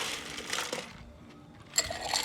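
Ice cubes tumble into a cocktail glass for a Tom Collins, a brief rattling clatter followed by a sharp clink near the end, close and clear.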